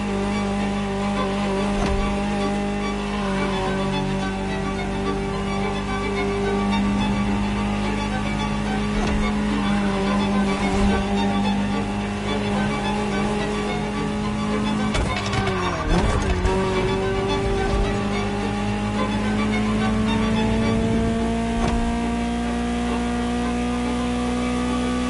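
A Ferrari supercar from the era of the 1984 Geneva Motor Show drives past. Its engine drones loudly and continuously, revs rise and fall in pitch, and there is a brief dip and swell midway.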